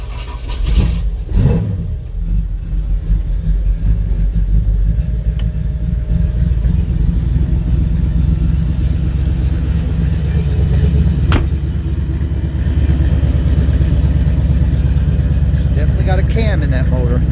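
A 1961 Ford F100 pickup's cammed V8 idles with a lumpy, choppy rhythm, steady and close throughout, with a brief rev near the start and a sharp click partway through; someone talks over parts of it.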